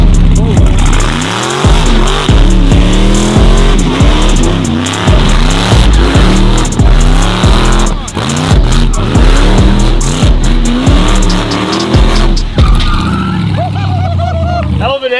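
Demon-engine-swapped Dodge Hellcat revving hard in loud, rapid repeated bursts with squealing tires, the engine roaring close up throughout and a brief lull near the end.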